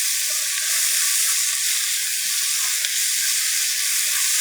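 Soy sauce hits pork frying in a hot pan, giving a steady, close, bright sizzle that holds evenly throughout with faint stirring and no talk.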